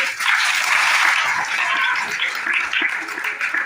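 Audience at a school magic show at a high school claps steadily for a few seconds, a dense, even burst of applause without speech.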